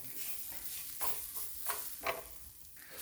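Coconut pieces are stirred and fried in a pan for aval unda, a soft continuous sizzle broken by a few distinct scraping strokes of the spoon, heard close up with no one speaking.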